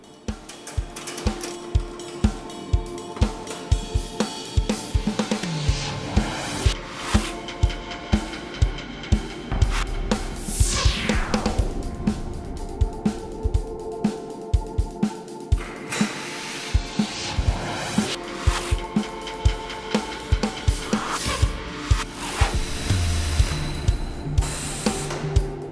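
A tire changer's tapered roll lifts the lower tire bead over the rim to demount it, giving a steady mechanical hum broken by a dense series of regular clicks and knocks, close and continuous with no talk.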